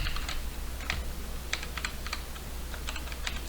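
Computer keyboard keys clicking in quick scattered bursts, including an Enter keypress, while exporting a map in ZBrush during face sculpting; close, fairly quiet taps over a steady low hum, no voices.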